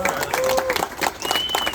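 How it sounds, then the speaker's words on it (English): Audience applause at a Pride breakfast in Manhattan, a moderate patter of clapping with faint crowd noise and a few tonal whistles or squeaks, lasting under two seconds. "So can we give him a big round of applause"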